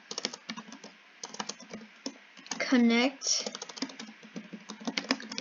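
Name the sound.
computer keyboard typing code in Roblox Studio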